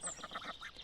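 A female duck gives a rapid run of low, deep quacks, close and fairly soft, with nothing else heard.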